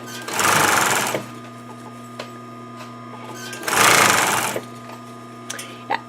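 Two bursts of a sewing machine stitching a cushion seam, each about a second long with a pause between them, fairly loud and close, with a low steady motor hum underneath.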